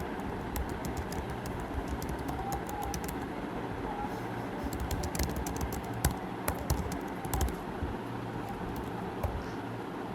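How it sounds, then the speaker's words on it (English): Fast typing on a computer keyboard, a dense stream of light key clicks with a few louder taps, steady over low background noise. "you also correct the mistakes without looking at the keyboard"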